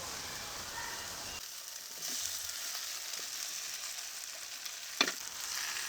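Potato and cauliflower pieces frying with spices in a pan, a steady close sizzle that grows after a quiet start, with an occasional clink of stirring.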